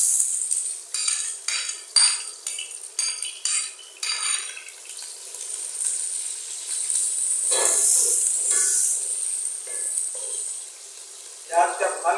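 Onions added to hot oil for aloo gobhi: metal utensils clink and scrape in quick bursts, then a steady bright sizzle swells up close before more clattering at the end.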